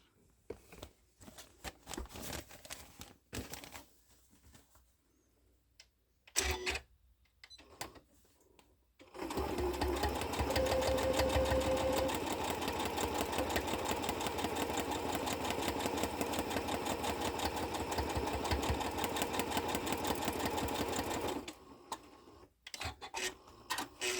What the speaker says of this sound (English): So we're going to go ahead and sew out her beak.